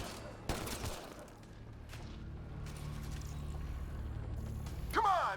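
Gunfire in the sci-fi shooter Mass Effect Andromeda: a sharp shot, a burst of firing and a few further cracks over a low rumbling game score, with battle sounds continuing around them and a voice speaking at times.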